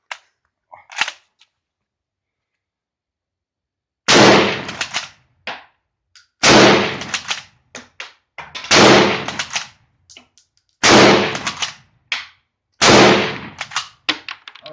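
A Turkish Gew 88/05 rifle fires five loud, sharp shots spaced about two seconds apart outdoors, each followed by bolt-cycling clatter, with a few faint clicks before the first shot.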